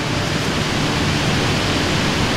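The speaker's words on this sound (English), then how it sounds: "Stonewall Falls, which is a small waterfall outside of Tigard" Stonewall Falls, a small waterfall near Lake Mott outside Tifton, Georgia, pours in a constant dense hiss and roar, close and unbroken, with no voices.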